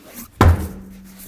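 A wheel is pulled off a 1988-2002 GMC Sierra 1500 pickup truck during a lower ball joint replacement, giving one heavy close thud with a brief metallic ring and another knock at the end.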